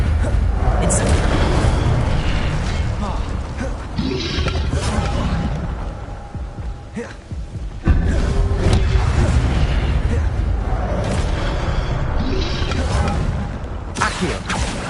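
Incendio fire spell cast in Hogwarts Legacy, a series of heavy booming bursts and whooshing flame blasts with rumbling mechanical game effects, loud and continuous with brief dips between casts.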